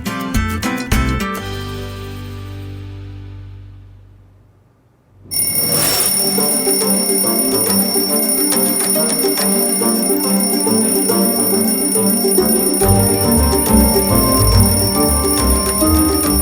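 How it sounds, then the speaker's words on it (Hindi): An alarm clock rings loudly in a steady, continuous metallic clatter that begins after a few seconds of quieter sound and keeps going without pause to the end. "कोई बंद करो इस अलार्म को"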